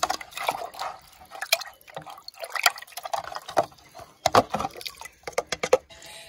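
Water is poured into a container to dilute a spoonful of plant fertilizer, giving irregular splashing and trickling bursts that grow busier toward the end, fairly close and moderately quiet, with no talk.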